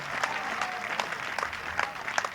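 An audience at a comedy poetry recital claps in a steady scattered patter, moderately distant, with a faint murmur of voices underneath.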